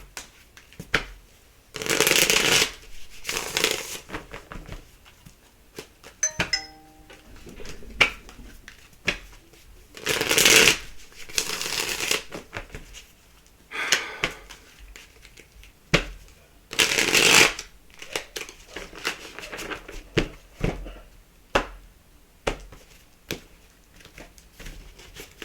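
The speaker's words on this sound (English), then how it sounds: "Let me shuffle these." Repeated bursts of playing cards being shuffled close up, each riffle a few seconds long, separated by quieter pauses and soft handling noises.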